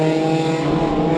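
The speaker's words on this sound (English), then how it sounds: "the engine, despite sounding rough, certainly not slowing him down any" A rough-sounding micro banger race car engine at the Cowdenbeath Racewall oval, a loud, steady droning roar with a harsh buzzy tone, close by and sustained without talk.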